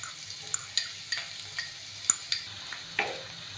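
Finely chopped onion dropped into hot oil with cumin seeds, a soft sizzle under faint repeated stirring and spoon taps against the pan, no talking.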